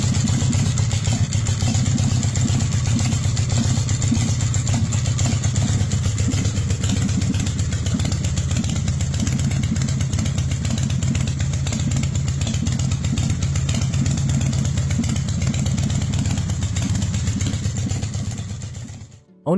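A 2004 West Coast Chopper CFL custom motorcycle engine runs at a steady, loud idle throughout, cutting off abruptly at the very end.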